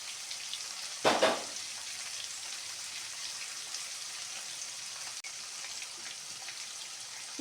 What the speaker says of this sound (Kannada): ಈಗ ಫ್ರೈ ಮಾಡೋಕ್ಕೆ ಸ್ವಲ್ಪ ಟೊಮೆಟೊ ಹಣ್ಣನ್ನು ಕೂಡ ಹಾಕ್ತೀನಿ